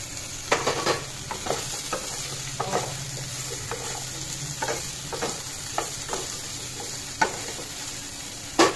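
Jackfruit seeds and potatoes dropped into a pan of hot oil with egg curry masala, a low steady sizzle broken by scattered scrapes and knocks of the spatula.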